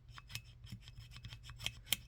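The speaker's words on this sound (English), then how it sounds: "You can take a toothbrush and gently start rubbing it around a little bit." Quick, close scratchy scrubbing strokes of a toothbrush against a Harley-Davidson master cylinder, irregular rhythm of bristles rubbing a hard metal surface, quiet and alone.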